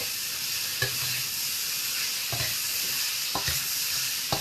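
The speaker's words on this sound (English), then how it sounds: "I'm just going to deglaze a little bit. A little red wine vinegar." A hot pan holding carrots, celery and fennel is deglazed with a splash of red wine vinegar. It gives a steady loud sizzle with a few soft scrapes of a spoon, close, with no talking.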